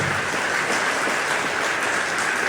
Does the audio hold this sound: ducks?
no